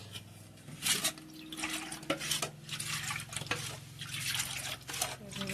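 Ragi (finger millet) batter being stirred in a metal vessel for Konkani ghavne, with soft liquid sloshing and repeated light clinks of the spoon against the vessel, close and fairly quiet.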